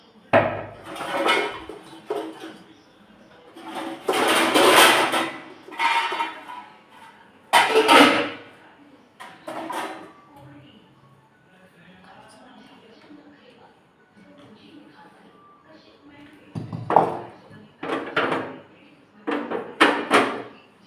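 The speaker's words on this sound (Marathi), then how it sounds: "कढई ठेवू" A few sharp metallic clanks and knocks of a wok being set down on a gas stove, with talking in between.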